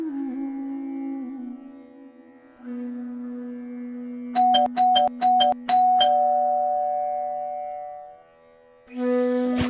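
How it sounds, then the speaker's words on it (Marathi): A doorbell rings in a quick series of about six bright chiming tones partway through, loud over a steady background of tonal music. "बेल वाजली तर ये."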